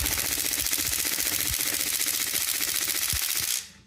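Ryobi mid-torque 1/2-inch cordless impact wrench on its lowest setting, a loud continuous rapid hammering buzz close by for several seconds that cuts off abruptly at the end, no talk.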